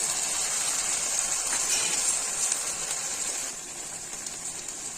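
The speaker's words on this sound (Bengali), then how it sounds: "দিয়ে দিচ্ছি বাটির প্লেট ধোয়া জল" Water is poured from a rinsed bowl into ground curry spice paste for a potato, soybean and pointed gourd curry, a steady close gush of liquid that eases off near the end.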